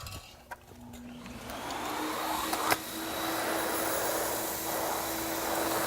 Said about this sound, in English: Let's go ahead and start the vacuum.